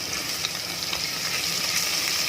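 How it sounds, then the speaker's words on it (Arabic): Garlic sautés in a hot pan while being stirred, a steady close sizzle with a few soft stirring scrapes throughout and no talking. "احط التوم، اشوح عندي كده في التوم."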